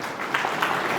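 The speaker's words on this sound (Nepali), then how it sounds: "उहाँको सम्मानमा जोरदार ताली" An audience at an annual general meeting of a metal engineering and fabrication industry committee applauds to honour a guest, with brief steady clapping that fills the room.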